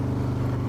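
A Harley-Davidson motorcycle engine fitted with a Tury throttle tuner, giving a loud, steady, deep rumble that holds close and constant through the whole short moment, with no voices over it.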